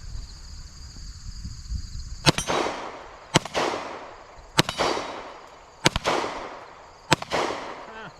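A 1911 pistol fires Norma Safeguard 9mm hollow points at a target 15 to 20 yards away, with five sharp shots spaced about a second apart, each ringing out loudly over faint background noise.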